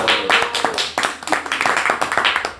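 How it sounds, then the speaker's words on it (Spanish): Applause from a small group of people, with distinct, fairly close handclaps in an uneven rhythm that dwindles toward the end, and no clear talking over it. "Un aplauso"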